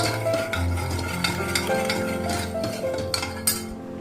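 A spoon stirs cooked dal for manathakali keerai kootu in a pot, giving a steady close scraping and clinking over a continuous low sizzle.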